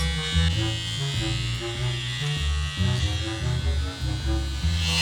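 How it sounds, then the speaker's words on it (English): Electric clippers buzz steadily close by while a rabbit is shaved under an umbrella at the stern of a moored narrowboat, the motor pitch wavering as the blades work through fur. "I bet they'd never guess we're shaving a rabbit"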